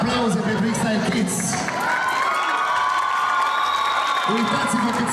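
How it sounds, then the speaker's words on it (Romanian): Audience applauding and cheering for a kids' dance group in an atrium, a steady crowd roar with whoops and children's shouts lasting the whole time under an announcer's voice. "Încă o dată aplauze pentru X-Style Kids!"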